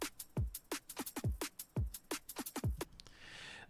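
A drum and bass break loop with its low end filtered off plays a quick, busy pattern of crisp drum hits, quiet and alone, fading into a soft hiss at the end.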